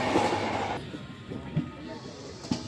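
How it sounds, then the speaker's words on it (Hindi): Passenger train pulling out of Prayagraj Chheoki junction on the Gondia Barauni Express, heard from inside a general-class coach: continuous rumbling rail noise with rhythmic wheel clacks over joints, steady and close. "और ट्रेन हमारी निकल रही प्रयागराज छिवकी रेलवे स्टेशन से।"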